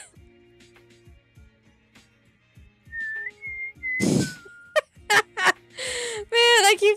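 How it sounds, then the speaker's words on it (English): Person attempting to whistle badly, producing wobbly breathy pitches broken up by bursts of laughter and airy sputters, close to the microphone with a faint hum behind. "I keep trying, but I keep laughing because my whistling sounds so bad"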